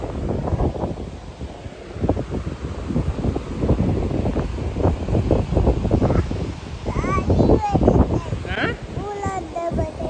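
Gusty wind blowing outdoors in the evening, rumbling and buffeting close against the microphone throughout, with a few harsh bird calls breaking through near the end.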